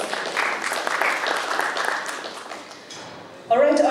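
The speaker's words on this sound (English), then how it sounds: "Let us hear a big round of applause." A big round of audience applause at a brand launch event, dense clapping that gradually thins and fades, then a loud voice over the hall system takes over at the end.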